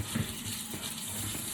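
Tap water pours steadily into a pot of washed rice, a close, continuous gushing fill with no voices.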